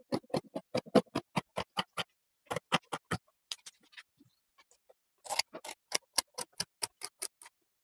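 Fabric scissors snipping through cloth for a peplum blouse, a close, regular series of crisp cutting clicks in runs with short pauses between.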